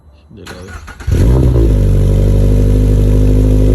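A 2022 Subaru BRZ Limited with an aftermarket exhaust fires up after a brief clatter, then holds a loud, steady exhaust rumble close by.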